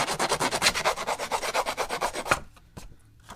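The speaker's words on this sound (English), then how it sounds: "I'm gonna go ahead and distress up the edges of this" A distressing tool scrapes along the edges of paper card in a quick, regular series of close, rasping strokes about five per second, then a few slower isolated scrapes follow.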